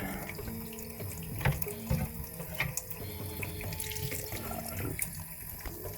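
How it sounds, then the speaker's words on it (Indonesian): Tofu liquid poured through a straining cloth, a steady close splashing stream of water trickling continuously with small drips and clatters. "Tuangkan ke sini pakai kain."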